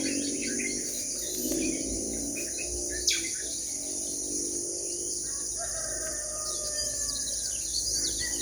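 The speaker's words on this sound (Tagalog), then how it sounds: "Gandang pakinggan guys, maririnig natin ang huni ng mga ibon." Birds chirp and call intermittently outdoors over a steady insect drone, with a few brief sharper tweets standing out against quiet background noise.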